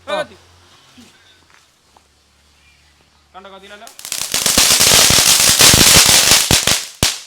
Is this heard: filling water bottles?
no